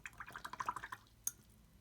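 Water drips and trickles into a small metal tin watercolor palette: a quick run of faint, close droplets, then a single louder drop after a short pause.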